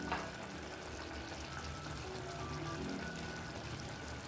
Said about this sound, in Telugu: ఉడికించిన కాబూలీ శనగలు వేసుకోవాలి.